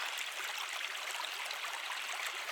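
A flowing stream on a hillside walking route gives a steady, even rush of water with no pauses, close and alone with no voices.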